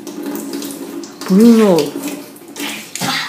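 Water runs from a tap in a home while people talk and a voice rises sharply over the noise, with the steady flow continuing under the speech.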